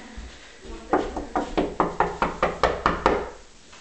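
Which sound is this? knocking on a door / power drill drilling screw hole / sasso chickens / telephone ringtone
knocking on a door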